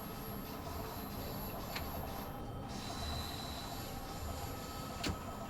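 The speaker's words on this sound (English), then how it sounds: "Trains get very, very loud in that section." Loud, steady rumbling roar of a London Underground Bakerloo line train running through a tunnel in Train Sim World 2, well above 100 decibels, with a broad rushing noise and occasional brief clanks, no voices.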